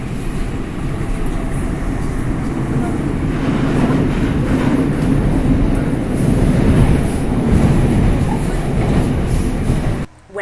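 Korean subway train ride heard from inside the car: a steady, fairly loud low rumble of wheels and motors with faint rattling, continuous throughout and cutting off abruptly at the very end.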